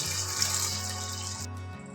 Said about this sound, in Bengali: আর আমি এখানে একটু হালকা পরিমাণ জল দিয়ে নেব।